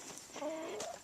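Chickens in a backyard hen house and run give soft, quiet clucks, a few short murmured calls in quick succession, close by and alone.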